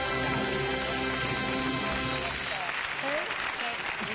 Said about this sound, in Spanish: Pero un aplauso para María Teresa porque gracias